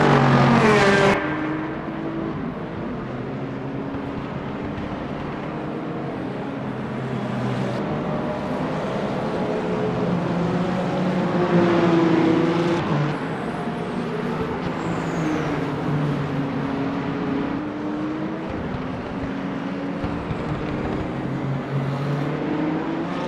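Race car engines roar in the Le Mans Ultimate sim during an 8 Hours of Bahrain endurance race, a loud continuous engine drone with rising and falling pitch as gears change and cars pass.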